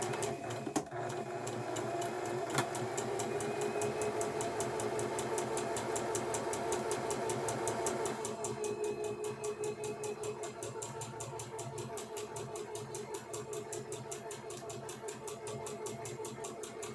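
A sewing machine runs steadily at close range, its needle producing a fast, even mechanical chatter with a humming motor underneath, dipping slightly in pitch and loudness partway through as it keeps stitching without pause.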